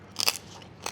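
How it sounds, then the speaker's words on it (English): Crunchy crackling on a roast pork being bitten into: two sharp, bright crunches close together, then a quieter final crunch, all close and loud with no talk. "make sure you know that it's beautiful and crunchy before you take it through to your guests"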